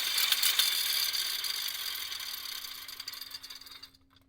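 Paint brush spinner tool whirling a wet paint brush to throw off water, a steady whirring rattle that gradually slows and fades before stopping near the end.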